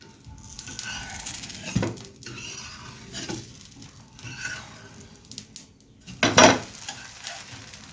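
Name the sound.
uttapam cooking in a covered pan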